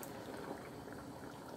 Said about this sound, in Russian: здесь жидкости собирается очень мало и уже брызгается сильно